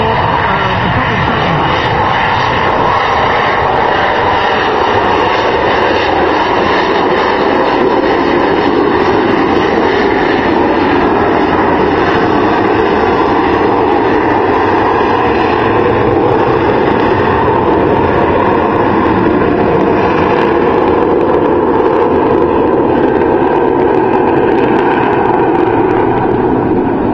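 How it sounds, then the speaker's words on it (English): A Harrier jet passes slowly at an airshow, held up on vectored engine thrust with its nozzles pointed down: a loud, steady, rumbling jet roar with a whining upper tone that holds constant and close throughout. "The aircraft there was simply flying by on the thrust."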